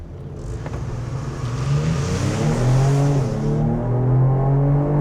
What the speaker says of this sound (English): let's put it in sport mode and see how well it jumps off the line.